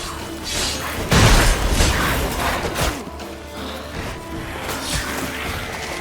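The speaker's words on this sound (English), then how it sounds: "A magic explosion of some sort." A magic explosion in The Witcher 3 video game bursts as a sudden, heavy boom with a crashing impact, then rolls off into a fading rumble and scattered debris, with no talking.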